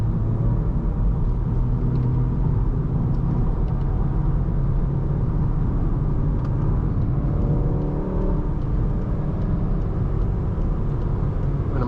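Steady low road rumble and tire roar from inside a moving 6-speed manual Volkswagen Golf R at highway speed on the Pennsylvania Turnpike, continuous and even throughout.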